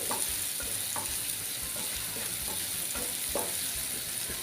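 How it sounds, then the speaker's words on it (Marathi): Onions sautéing in a pan over medium gas for a fish-roe kheema, giving a continuous soft sizzle with periodic light scrapes of stirring and no voices. "कांदा आहे तो आपल्याला परतवून घ्यायचा आहे ही सर्व प्रोसिजर आहे हा आपण मीडियम गॅसवर करायची"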